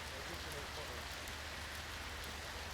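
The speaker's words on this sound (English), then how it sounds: "they're all sheltering from the rain" Rain falls steadily on an open field at an archaeological dig, making a soft, even hiss of drops with no breaks.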